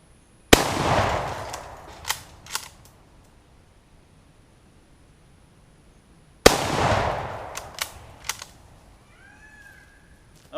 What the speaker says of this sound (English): let's shoot that with a Mosin Nagant